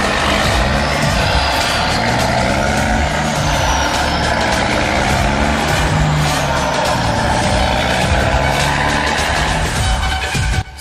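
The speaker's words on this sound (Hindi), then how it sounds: "सर आवाज तो आ रही है जंगल में, जैसे ट्रक आ रहे हैं कोई।" A truck approaches through a jungle in the Free Fire video game, a loud continuous engine roar with rumbling tones and hissing air-brake noise, close and steady throughout.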